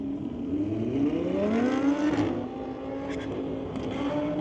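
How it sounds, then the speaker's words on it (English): A street-legal drag car launches at Mission Raceway Park, its engine note rising steadily in pitch through the first two seconds, then dropping as it pulls away down the strip. Traction struggles are stated, and the engine is heard alone with no talk. "Awkward launch for that car. Just can't find traction."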